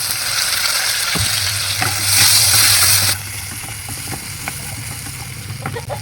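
Onion, green chili, ginger-garlic paste and tomato frying in a pan, a loud steady sizzle with a burst of hissing midway and the scrape of stirring throughout.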